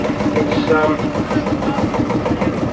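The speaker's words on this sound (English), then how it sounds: "a 4-wheel drive version of Massey Harris 35, and it's a very rare tractor indeed with the 4-wheel drive." A rare four-wheel drive Massey Harris 35 vintage tractor runs with a steady, rhythmic engine chug at a steam fair show ring, loud and close, while a commentator talks over it.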